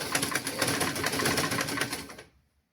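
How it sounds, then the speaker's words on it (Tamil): A sewing machine runs a half-inch seam on children's clothes, giving a steady, close, rapid mechanical whir for about two seconds before stopping abruptly. "அதாவது 1/2 இன்ச்சு சீம் எடுத்து நாங்கள் சுற்றி வர அப்படியே தைச்சு கொண்டு போகணும்"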